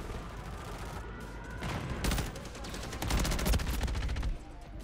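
Sentry gun firing in Modern Warfare: rapid automatic bursts of gunfire, louder and denser in the latter half, over a steady low background of game noise.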